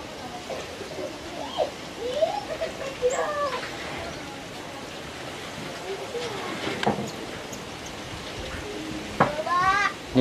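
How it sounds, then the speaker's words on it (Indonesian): Small pentis birds in a mini backyard aviary before rain give scattered chirps and short trilled calls, with soft cooing from other birds and someone speaking in the background. "Ini burung pentis ya bosku"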